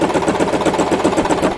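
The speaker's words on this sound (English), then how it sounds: "Place the material under your sewing foot and sew your line" A Singer Promise sewing machine runs steadily, stitching a seam through fabric, a continuous close mechanical whir with rapid rhythmic needle chatter, with no voices.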